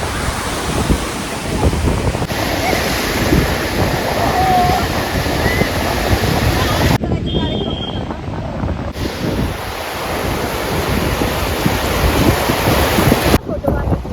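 Ocean surf at Gokarna beach, a continuous wash of breaking waves mixed with heavy wind buffeting the microphone, loud and steady with no clear pauses.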